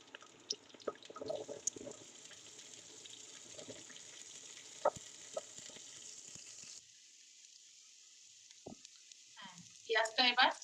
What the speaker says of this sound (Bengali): পেঁয়াজটা এবার এই যে বেশ ভাজা হয়ে গেছে